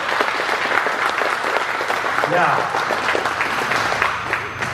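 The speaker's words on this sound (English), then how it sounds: "Give them and yourself a big round of applause" A roomful of diners at a volunteer appreciation supper for the Western Canadian Nationals Car Show claps hard and continuously, with a brief shout and scattered voices mixed into the ovation.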